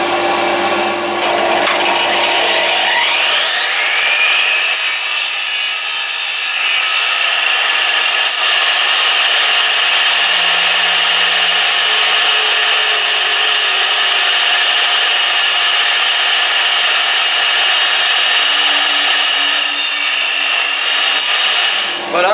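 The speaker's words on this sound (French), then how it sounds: "on va les mettre sur la scie circulaire" A circular saw whines at high pitch, spinning up and cutting steadily through resin pen blanks for a long, loud stretch.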